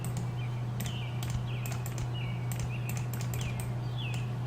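Birds chirp outside in short repeated tweets spread through the clip, faint and distant, mixed with keyboard typing and a steady low hum indoors.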